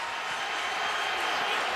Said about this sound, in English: Crowd still booing the